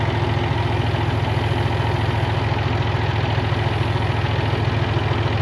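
Water well rig engine idling steadily with the alternator switched on and the PTO engaged, a close, even low-pitched drone with a fast pulsing throb and no talking.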